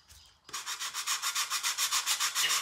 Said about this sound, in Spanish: Se me había olvidado lijar.